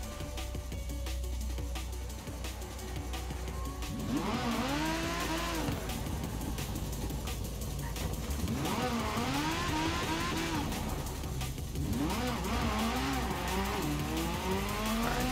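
A car engine runs steadily through a racing video game, with rising and falling revs and gear changes as the car speeds along, a continuous close engine roar that shifts pitch repeatedly.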